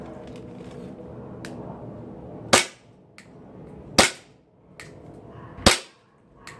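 A gas-powered BB gun fires three sharp, loud shots spaced about one and a half seconds apart, each a crisp crack over a low background hum.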